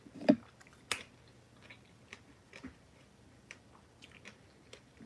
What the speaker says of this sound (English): I'm smacking on it now.